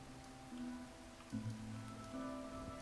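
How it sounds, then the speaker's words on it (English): Rain falling in a desert biome in the video game Minecraft, a steady soft patter over a continuous hum of game ambience, with no voices. "I'm in the desert and it's raining."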